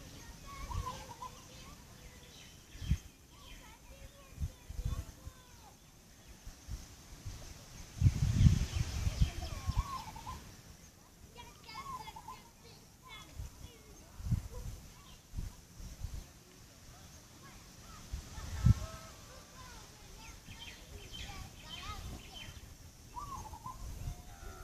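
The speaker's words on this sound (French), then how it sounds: "Oiseau là-bas." Birds call faintly in the distance outdoors beside Étang Saint-Paul, a pond on Réunion, with scattered short calls over a soft background of wind and rustling and a few low thuds nearby.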